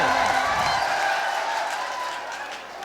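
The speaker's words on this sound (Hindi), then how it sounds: "तालियां बजाकर बुलाए।" Audience at a mushaira applauding in a steady, dense wash of clapping that fades slightly, with a voice briefly audible at the start.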